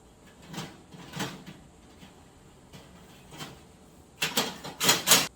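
Trays of sliced jalapenos slid into a food dehydrator, giving soft scattered plastic scrapes and clicks at first, then a louder cluster of rattling slides near the end.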